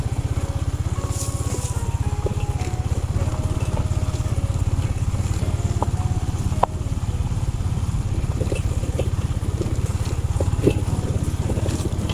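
A motorcycle ridden along a mountain road hums with a steady, close engine putter, its rhythm unbroken for the whole stretch, with faint clattering and wind noise around it.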